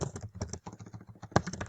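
Quick bursts of typing on a computer keyboard, close and distinct, with irregular clusters of keystrokes and short pauses between them.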